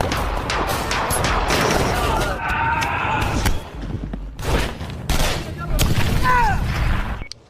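Rapid, dense bursts of gunfire rattle through a film shootout during an ambush, loud and close, with crashes and impacts mixed in, voices heard among the shots, and a brief lull before the firing resumes.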